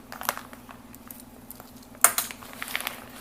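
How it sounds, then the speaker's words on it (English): A knife slicing open an Eversafe civilian MRE ration pouch, scalloped potatoes with ham: faint scratchy ticks, then one sharp crackling snap of the pouch, then a run of close crinkly rustling. "So let's go and get our knife and get it cut open."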